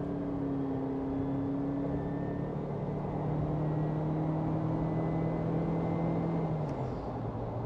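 Suzuki Jimny Sierra fitted with a turbo kit accelerating from 90 to 120 km/h, a steady engine drone whose tone climbs gradually, heard from inside the cabin.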